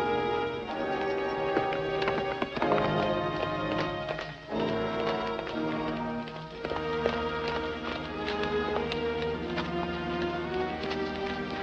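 Rapid hoofbeats of a horse clip-clopping steadily over a dense, busy backdrop of music and noise, with no clear speech, from a 1954 film serial.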